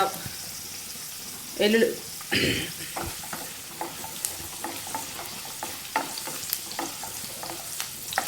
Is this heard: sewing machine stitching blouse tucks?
no